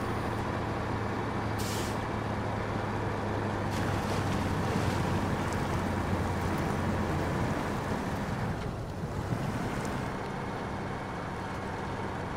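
A heavy AZOV 64131 truck in the SnowRunner video game, its engine droning steadily with a sharp air brake hiss near the start, the rumble continuing alone at moderate level.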